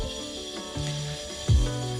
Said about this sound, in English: It's the construction next door.